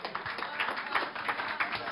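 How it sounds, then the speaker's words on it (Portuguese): Audience applause for the women at a formal International Women's Day session, a dense, steady wash of many hands clapping at moderate distance, continuous throughout with no voices over it. "Mais palmas para essa mulherada!"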